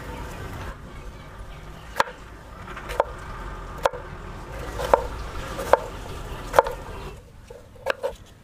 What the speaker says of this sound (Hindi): शिमला मिर्च काट लेते हैं